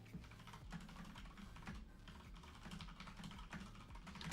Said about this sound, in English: I'm typing fast.